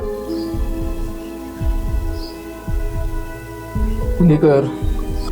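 Heartbeat sound effect in a Marathi drama serial: steady, deep thumps in regular pairs pulse beneath ongoing dialogue, with a low hum behind.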